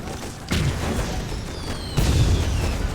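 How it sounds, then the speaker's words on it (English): Gas mortar in the war strategy game Toy Soldiers launching toxic gas rounds: two loud, booming thumps about one and a half seconds apart over a steady bed of battlefield noise. "the mortars upgrade to gas mortars, and let's see what we can do with our toxic gas here"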